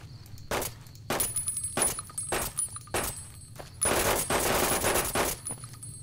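Rapid automatic bursts from a nail carbine in a modded Fallout game, spraying nails in loud, sharp repeated volleys with brief pauses between, the longest burst at the end, plus metallic clinks.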